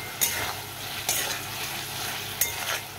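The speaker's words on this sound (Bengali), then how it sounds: "তো দেখো সবগুলো একসঙ্গে আমি ভালো করে কষিয়ে নেবো।" Potato, eggplant and peas sautéing with spices in a pan for a fish curry, a steady close sizzle broken by three sharp scraping stirs, with no talking.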